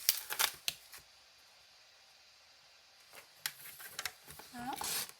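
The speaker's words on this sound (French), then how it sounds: "Maintenant, on va venir couper ces 3 morceaux-ci de façon à pouvoir plier notre boîte." Scissors cutting through pieces of a paper box for an Advent calendar decoration, a few crisp close snips at the start and more clustered cutting and rustling toward the end, with quiet stretches between.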